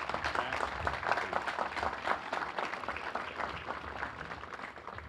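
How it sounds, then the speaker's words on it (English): An outdoor crowd at the Harry Uhlman Bandstand dedication in Marine Park, South Boston, applauds in a dense, steady patter that eases slightly toward the end, moderately loud and without speech. "Please give a warm round of applause for Father Casey."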